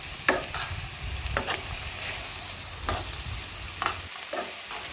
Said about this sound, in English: fry all the vegetables